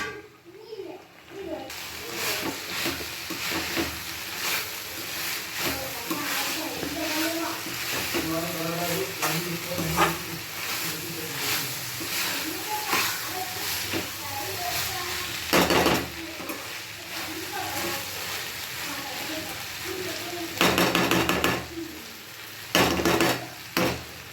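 Broad bean curry with coriander sizzles and bubbles in a pan on high flame, with steady frying noise, occasional stirring and clinks of utensils, and someone speaking at times.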